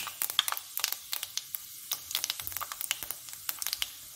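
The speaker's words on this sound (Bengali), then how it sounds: "তেল গরম হয়ে এসছে, আমি পাঁচফোড়ন দিলাম" Panch phoron whole spices, heavy on fenugreek, dropped into hot oil and crackling, a rapid run of sharp, close pops and spits over a quiet sizzle.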